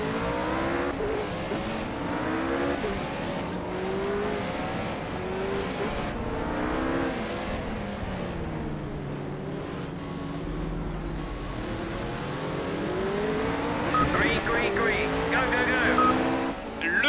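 A pack of GT3 race cars launches at the start of a race at Laguna Seca in the Project CARS video game. Many engines rev and climb through the gears together, loud and continuous, with someone talking over them.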